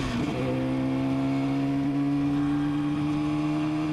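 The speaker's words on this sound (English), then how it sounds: "The 1972 RD350 is a two-stroke, 39 horsepower engine." A 1972 Yamaha RD350 two-stroke 39 horsepower motorcycle engine revs up sharply, then settles into a steady, buzzing high idle with clear tonal drone, close and alone.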